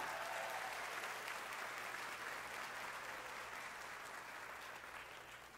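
An audience applauds continuously, a dense wash of clapping that fades slightly toward the end, with no voices over it.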